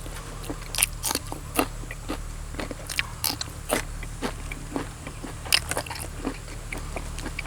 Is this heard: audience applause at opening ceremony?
no